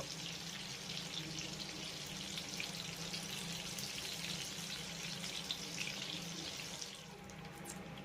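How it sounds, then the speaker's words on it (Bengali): Shrimp fry in hot oil, giving a steady, even hiss and sizzle that runs close and constant, then softens slightly near the end. No one speaks. "একই রকমভাবে বাকি চিংড়ি মাছগুলোকেও ভেজে নেবো"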